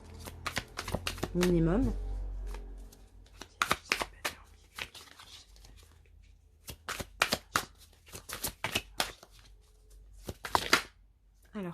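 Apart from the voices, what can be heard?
shuffling Lionne oracle cards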